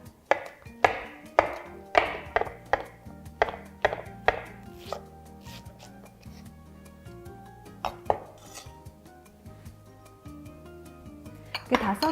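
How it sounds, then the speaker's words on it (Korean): A kitchen knife chops shiitake and enoki mushrooms on a cutting board in quick bursts of sharp, close knocks, pausing briefly between rounds, with faint clinks of dishes in between. "표고버섯이랑 팽이버섯도 잘라주겠습니다"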